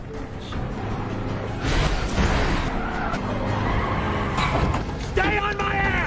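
In a war film scene, a car peels away from surrounding soldiers with loud tire skids and a roaring engine, with horse-like neighs and shouting voices mixed into the chaotic, busy soundtrack.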